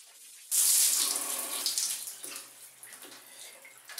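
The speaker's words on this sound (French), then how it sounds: "Je viens de rincer mes cheveux." Water from a tap pours steadily in a bathroom while hair is rinsed. It starts abruptly, runs loud and close, then splashes and gurgles unevenly as it hits the head.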